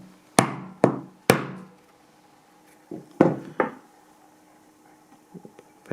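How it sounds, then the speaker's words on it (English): A hammer drives a pricking iron through 2 mm vegetable-tanned leather in sharp, close blows: three quick strikes, a pause, then two or three more, each ringing briefly before fading, followed by faint taps. "I'm going to just do it like this using this hammer."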